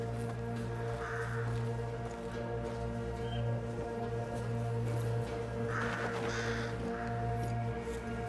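Crows caw at night in the video game A Plague Tale: Requiem, a few harsh calls at moderate distance over a steady low ambient drone with a tonal background hum.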